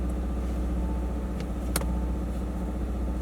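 A car engine idles steadily after starting, a low even rumble close by at a campsite, with no talk over it.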